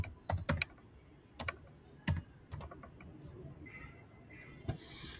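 Clicks of a computer keyboard as a word is typed for a kids' logo design, coming in quick irregular bursts of keystrokes with short pauses, close and crisp with no talking over them.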